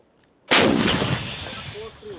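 A British artillery gun fires near Bakhmut, one sudden loud boom from silence that rolls on into a long echoing rumble.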